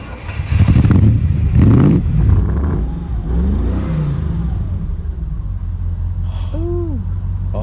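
A Triumph Stag's V8 engine revs hard twice, loud and close, then settles to a lower, steady rumble, with a brief whistle-like sound near the end.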